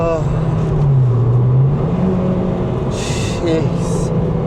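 A Japanese-market Honda Civic Type R engine revs as VTEC engages on a road drive, a rising tonal engine note sitting under a man's speech inside the cabin.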